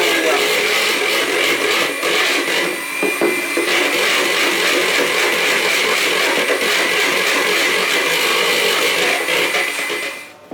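An electric mixer whips egg whites into stiff peaks for Polish coconut macaroons, a loud, steady whirring grind that runs almost without pause before cutting off at the end.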